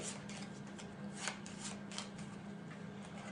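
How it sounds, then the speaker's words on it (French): Three playing cards are shuffled quietly by hand at a table, producing soft, rapid rustling and light flicks, close but faint against a steady low hum. "Je vais les mélanger un petit peu."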